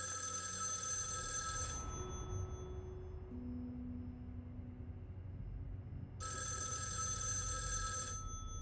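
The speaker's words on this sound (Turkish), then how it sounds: "Telefonu açayım bari." A telephone rings in two loud bursts, one at the start and another after a pause of a few seconds, over a steady low background hum.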